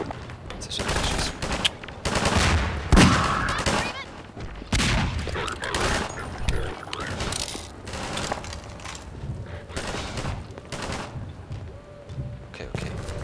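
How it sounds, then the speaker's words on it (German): Gunfire in Half-Life 2: repeated bursts of automatic shots and blasts, loud and close, with someone talking over parts of the action. "Das ist ein Schuss."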